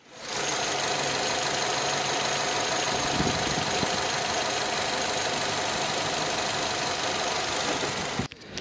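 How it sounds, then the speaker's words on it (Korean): A 2008 Samsung SM5 Impression LE sedan with about 80,000 km idles steadily, heard up close as a constant even engine drone with no talk, ending with a brief knock. "엔진 소리 한번 들어보시겠습니다"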